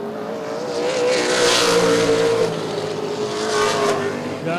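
Race cars of the ARCA/CRA Super Series scream around the short track at Baer Field Motorsports Park, engines whining loud and close as one swells past and fades.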